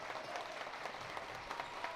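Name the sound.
basketball crowd cheering in a gym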